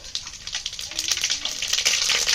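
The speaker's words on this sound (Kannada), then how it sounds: "ಎಣ್ಣೆ ಹಾಕ್ಕೊಳಕತ್ತಾರ ನೋಡ್ರಿ ಅದ ಸಾಸಿವೆ ಹಾಕ್ಕೊಂಡ್ರು" Mustard seeds fry in hot oil for sambar, a close, loud crackling sizzle with rapid pops that grows denser and stronger over a couple of seconds.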